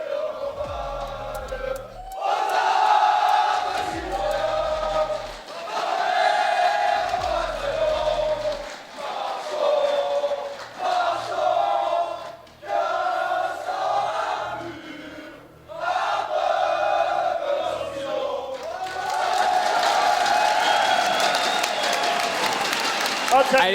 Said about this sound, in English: there's a lot of support for Vitality in the crowd here